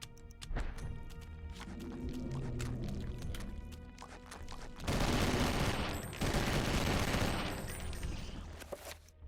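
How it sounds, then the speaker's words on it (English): Rifle gunfire in the video game Eternal Darkness, sounding as dense bursts of rapid shots that layer over game ambience and grow heavier partway through. "This stupid rifle is so good."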